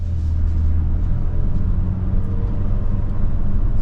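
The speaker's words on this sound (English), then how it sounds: "we're on the back farm roads of Flemington in this brand new 24 QX50 Sport" A brand-new 2024 Infiniti QX50 Sport AWD SUV cruising on back farm roads near Flemington, with a steady, loud low rumble of engine and road noise filling the cabin and no one talking.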